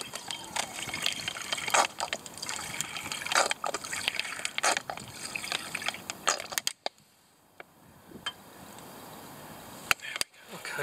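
Water poured into a camping pot on a woodland stove setup, heard as an irregular liquid gush and trickle with scattered clatter for about seven seconds, then a quieter stretch with a few sharp knocks.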